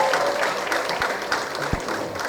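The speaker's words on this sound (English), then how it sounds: "A huge round of applause." Audience applause at a public event, a steady dense wash of clapping that continues throughout without a break, with no clear voices over it.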